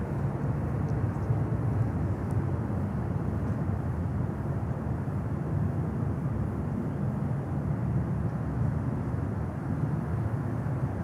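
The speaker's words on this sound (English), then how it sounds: "we have an A320 Sky Airlines from Lima, Peru, coming in." A Sky Airlines Airbus A320 arriving at Miami airport from Lima, Peru, gives a steady low jet rumble and roar heard from a distance, broadband and constant throughout, with no voices.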